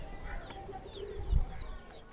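Teddy pigeons in a running breeding pair coo softly in low rolling calls, with a brief louder thump midway and faint chirps and loft noise around them.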